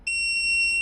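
A power inverter running off a home battery gives a steady, loud electronic beep as it powers up. It starts almost at once and holds without a break to the end, with no talk over it.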